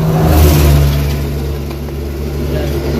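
A car engine that has run out of engine oil runs steadily with a loud, low rumble and a faint rise in revs near the start, with no voices over it.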